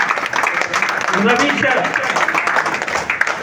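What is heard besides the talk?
audience clapping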